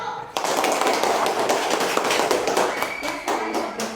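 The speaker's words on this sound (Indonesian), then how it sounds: "Tepuk tangan untuk kelompok 1" A group claps at once, a burst of scattered, quick claps that keeps going for several seconds before thinning out.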